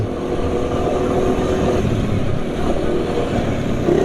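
A motorcycle engine runs steadily at idle or low revs, a loud continuous rumbling drone with no talk.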